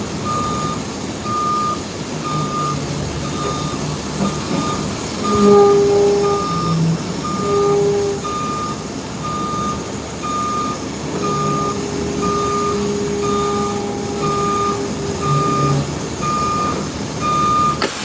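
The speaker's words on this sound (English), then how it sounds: "Truck's got a good little turbo on it. I know you hear it." A yard truck engine idles and rumbles steadily with a whining turbo in the snow, while a reversing beeper chirps repeatedly in the background outdoors.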